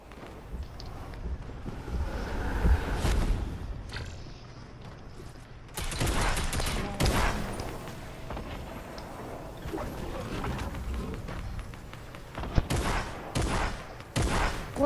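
Rapid drum gun fire in Fortnite, sustained bursts of automatic shots cutting in and out across the stretch, loud and close with no talking.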